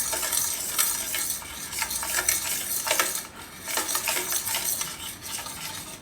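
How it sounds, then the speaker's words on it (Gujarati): A spoon stirs and scrapes in a pan as milk powder is mixed into warm milk and ghee for chocolate laddu. Brisk, repeated scraping strokes sound over a soft sizzle, close and with no talk. "થોડો થોડો પાવડર આપણે આ દૂધનો પાવડર આમાં નાખતા જાઉં અને મિક્સ કરતા જાઉં"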